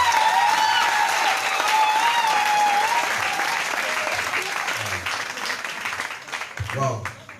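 A church congregation applauds and cheers in sustained, dense clapping with shouts that fades slightly toward the end, some voices audible within the crowd.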